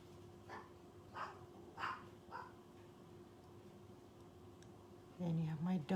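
Dogs bark in short separate bursts, three or four yaps over a steady room hum, then a louder closer run of barks and whines at the end.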